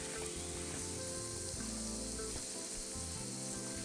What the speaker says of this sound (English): We're gonna cook down these onions.